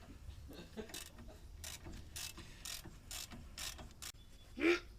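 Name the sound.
ratchet removing brake caliper bolts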